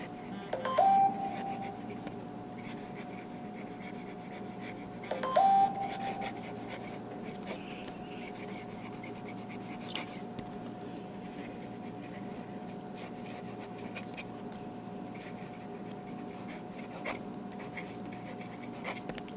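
A Jinhao X450 fountain pen with a Goulet 1.5 nib scratches faintly across paper in short strokes under a steady background hum, and two brief electronic beeps sound.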